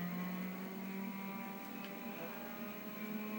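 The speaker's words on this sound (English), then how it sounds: "That is a proper Cosworth engine." A Cosworth engine idles steadily in the Driver San Francisco racing game, a constant low mechanical drone with harmonic hum running evenly throughout, no talking over it.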